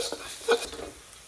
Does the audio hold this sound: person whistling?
no